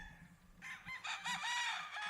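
A gamefarm rooster crows loudly and close by, a rising, drawn-out call preceded by a few low clucks from hens in the pen.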